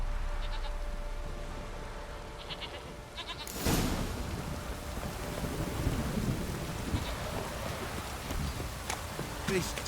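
Heavy downpour and a sudden thunderclap in The Witcher 3: Wild Hunt. Rain hisses steadily and a loud crack of thunder bursts in, then rolls on under the rain.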